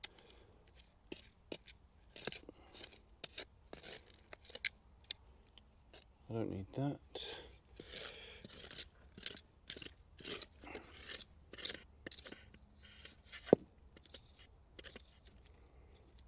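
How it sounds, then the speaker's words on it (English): Garden soil is scraped and raked into seed drills, giving a series of short gritty scratches and crunches at close range, with someone speaking briefly in between. "So the first thing I'm going to do is just drag out some drills here."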